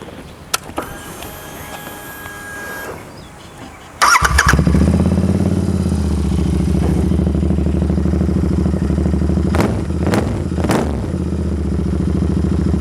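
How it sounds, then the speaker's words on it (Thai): A Royal Enfield Interceptor 650 motorcycle engine cranks and starts with a sudden burst, settles into a loud throbbing idle, then the exhaust is revved sharply three times. "งั้นเดี๋ยวเรามาฟังเสียงท่อกันก่อนดีกว่า"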